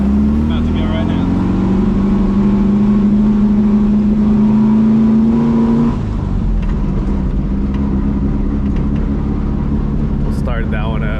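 A 1970 Volkswagen Beetle Baja Bug engine drones loudly while driving off-road, a steady mid-pitched hum with rises and shifts in pitch, and people talk over it.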